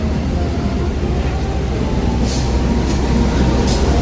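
Mataram train from Solo Balapan bound for Pasar Senen standing at platform track 2 of a station, a steady low rumble of idling rail cars with faint hissing bursts, continuous and fairly loud, no talk.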